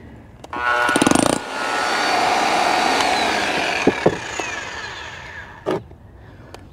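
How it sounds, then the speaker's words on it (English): Concrete curb being chiseled out with a power tool beside a street, a loud sustained rattling burst followed by steady grinding, then scattered sharp knocks near the end. "the curb is bigger, Tom has to chisel that little piece out before he can continue."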